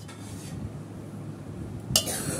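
Plates and spoons handled in a home kitchen, soft low clatter followed by one sharp clink near the end, fairly quiet.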